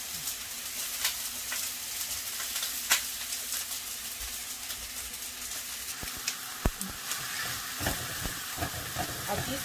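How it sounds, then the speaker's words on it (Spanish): Meat sizzles quietly in a pan while being cooked for chiles rellenos, a soft continuous fry with occasional sharper pops and clinks, fairly faint and steady. "Aquí solo estoy cocinando la carne unos cuantos minutos"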